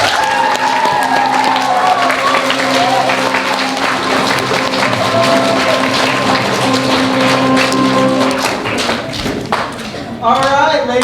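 Audience applause after a school theatre performance of The Sword Called Excalibur, a loud, dense wash of clapping sustained for several seconds with music tones and voices mixed in, thinning toward the end.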